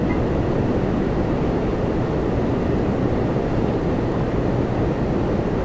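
An American Airlines Boeing 737-800 from Dallas at Toronto Pearson produces a loud, continuous broadband jet roar, steady and unbroken, with no voices.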